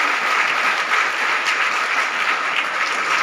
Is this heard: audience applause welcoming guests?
yes